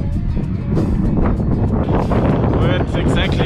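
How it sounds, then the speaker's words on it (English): Strong headwind buffets the microphone at a crossroads on a bike tour, a loud, continuous low roar of wind noise that fills the whole stretch without a break. "Wind exactly from straight ahead."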